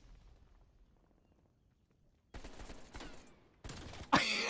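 Video game gunfire bursts out in loud, abrupt clusters after a quiet opening, with rapid automatic shots near the end.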